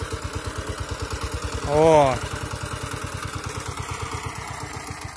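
A Kentavr walk-behind tractor engine chugs steadily at close range while ploughing mustard under, a fast even thumping beat throughout, briefly overlaid by a short shouted voice.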